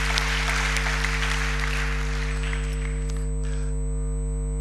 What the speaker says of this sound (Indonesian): kita patut memberikan kepada dia tepuk tangan yang luar biasa